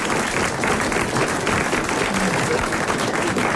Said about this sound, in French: vous allez d'abord applaudir Madame Petite-Calais,